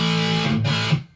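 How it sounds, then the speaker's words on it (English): A short burst of electric guitar through an MXR Custom Badass '78 Distortion pedal with the distortion turned up, a gritty sustained chord that rings briefly and then cuts off. "And with the distortion up."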